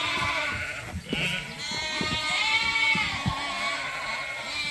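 Lambs in a barn playpen bleating, several overlapping high wavering calls close by, nearly continuous over rustling and shuffling in straw.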